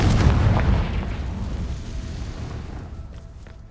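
Blast from the Confringo fire spell in Hogwarts Legacy, a loud booming burst up front that rolls off into a long, fading rumble with no other sounds over it.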